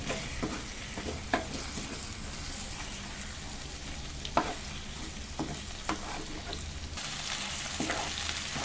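A spoon stirs bendakaya (okra) egg fry in a frying pan, giving soft continuous sizzling broken by scattered scrapes and light clinks. The sound is quiet and close, with no voices.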